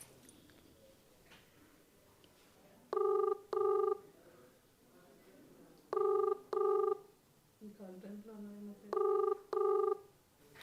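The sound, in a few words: phone ringing during an outgoing call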